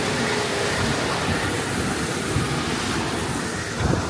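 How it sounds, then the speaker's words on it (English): Steady rushing water from a waterfall at a Florida theme park, a broad continuous wash with wind noise on the microphone, holding at an even level throughout with no voices. "Oh, there's a waterfall though."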